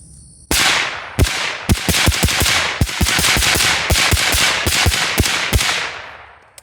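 A .30 caliber rifle fitted with a Fletcher Rifle Works Permian suppressor empties the rest of its magazine in about fifteen sharp, muffled cracks. The shots are close and loud, first spaced and then coming in quick uneven succession, with no talk.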